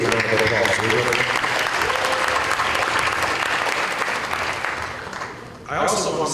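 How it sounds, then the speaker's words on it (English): A crowd gives Reverend Sharpton a loud round of applause; the dense clapping fades gradually before a brief burst and a voice coming in at the end. "Give Reverend Sharpton a great round of applause."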